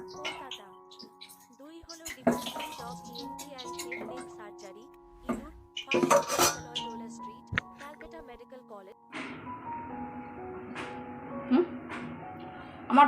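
Fried pointed gourd slices are lifted out of a pan with kitchen utensils, giving a few sharp metallic clinks and scrapes at irregular moments over a steady background hum.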